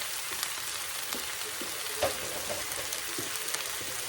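Collard greens with bacon frying down in a pan, a steady close crackling sizzle with a few soft clicks of stirring.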